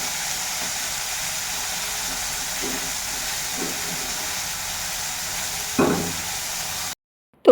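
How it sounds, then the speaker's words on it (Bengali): Bitter gourd slices fry in a pan with a steady, close hiss of oil, broken by a few soft knocks and one louder clatter near the end before the sound cuts out. "দেখো উচ্ছেটা এখন ভাজা হচ্ছে"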